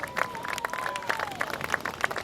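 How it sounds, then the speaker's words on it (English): Brief burst of audience applause at a live show celebrating figure skating finalists, dense clapping with a whistle-like tone over it. "Another round of applause."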